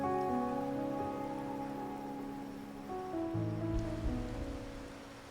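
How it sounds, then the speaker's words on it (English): Faint, steady rain patters softly in a video game, sitting low beneath sustained musical tones that carry throughout, with a slightly heavier swell near the end. "The faint rain finally ceases."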